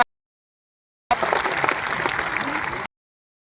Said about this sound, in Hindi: हाथ ऊंचे करके एक बार जोरदार तालियां।